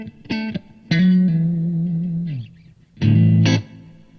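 Electric guitar through a Marshall combo amp with reverb: a short plucked note, then a long sustained note that rings and decays, and a final burst of notes, all loud and close with reverb tails and no talking.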